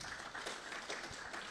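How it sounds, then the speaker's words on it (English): Audience applause at a rainwater harvesting consultation meeting, a short burst of steady clapping from a crowd, fairly even and moderately loud throughout. "Let's give him a round of applause"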